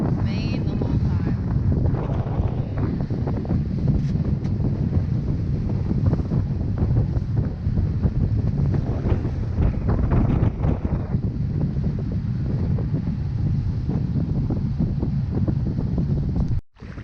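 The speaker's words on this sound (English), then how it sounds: "The wind is so strong." Strong wind buffets the microphone at a sailboat anchorage, a loud, continuous roaring rumble that runs without letup for nearly the whole stretch before cutting out abruptly at the end.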